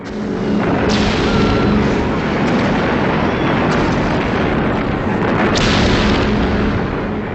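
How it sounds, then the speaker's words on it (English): Explosions from the Allied bombing of Tokyo in 1944: a loud, continuous roar of blasts and rumbling, with dense booming layered throughout and no voices. "In November of 1944, Allied bombing of Tokyo began."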